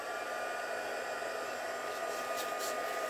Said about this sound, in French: je mets mon pistolet chauffant à chauffer